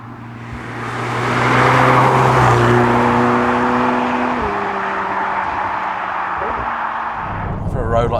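McLaren 720S sports car cruising on a road, its engine a steady loud drone with harmonic tones that hold, then drop at a gear change midway and settle again, heard from inside the cabin.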